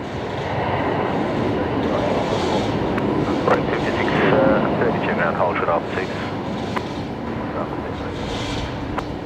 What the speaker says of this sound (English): we got the green A220 coming in tonight